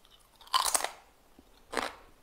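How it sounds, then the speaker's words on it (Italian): Two crisp, crunchy bites into homemade oven-baked potato chips, one loud bite followed a second later by another, close to the mic with no talking. "facciamo la prova croccantezza per uno da 6 minuti e per uno"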